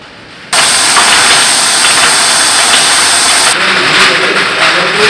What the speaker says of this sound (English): this is now the filling machine